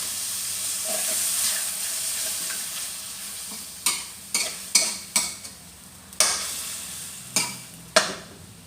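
Beef stir-fried in a pan for a curry-paste stir-fry, with a constant sizzle and hiss of steam, broken by a run of sharp metallic scrapes and clacks of a utensil against the pan in the second half.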